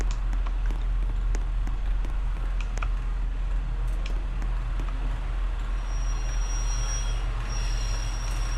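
A British Rail video game train rolls steadily into a platform, a loud continuous low rumble of wheels on track with faint clicks, and a high wheel squeal rising toward the end.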